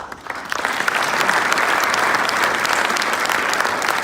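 Audience at a commissioner's swearing-in ceremony breaks into sustained applause, rising quickly to a full, dense clapping that continues evenly to the end.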